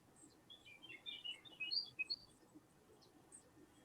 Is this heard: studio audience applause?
no